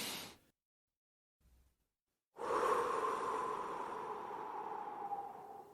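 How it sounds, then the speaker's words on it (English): A man draws a deep breath and lets out a long, steady exhale as a drama sound effect; the breath rises abruptly after a near-silent gap and holds loud and close for several seconds with no talk. "She told the man to breathe deep,"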